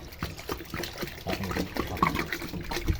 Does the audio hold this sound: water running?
yes